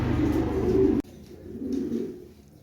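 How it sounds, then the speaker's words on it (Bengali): A male racing pigeon coos close by in low, rounded rumbling calls, loud at first, then after a sharp cut continuing more softly with a second swelling coo. "এ হচ্ছে এক পিস নর কবুতর বিআরপিএফসি ক্লাবের"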